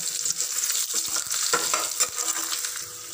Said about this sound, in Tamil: தட்டி வச்சுருக்க பூண்டை இதில் ஆட் பண்ணி நல்லா வதக்கி விட்டுக்கலாம்